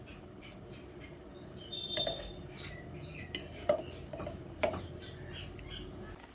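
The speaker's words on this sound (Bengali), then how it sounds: "উপরে যে ফেনাটা হবে সেই ফেনাটাকে এইভাবে চামচের সাহায্যে তুলে ফেলে দিতে হবে" Metal spoon scraping and tapping against a pot while skimming foam off boiling masoor dal, scattered clinks and clatters over a low bubbling background.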